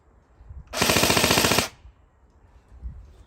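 A PTS Zev-Core Elite Carbine airsoft gun powered by a 7.4 V LiPo fires a rapid full-auto burst of BBs lasting under a second, a loud, close mechanical rattle with quiet outdoor ambience around it.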